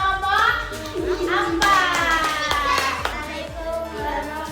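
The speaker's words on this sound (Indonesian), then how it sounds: "Beri tepuk tangan buat kelompok 4." Classroom of children clapping for a student group, a sustained patter of many small hands with children's voices chattering over it, close and fairly loud throughout.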